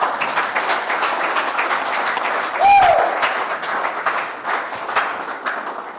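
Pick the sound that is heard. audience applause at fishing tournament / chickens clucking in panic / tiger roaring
audience applause at fishing tournament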